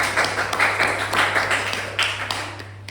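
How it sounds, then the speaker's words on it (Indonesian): Classmates clap for a student who came up to the front of the classroom, with a dense spread of hand claps sustained throughout under a low steady hum. "Tepuk tangan dulu buat Sri-nya yang udah maju ke depan"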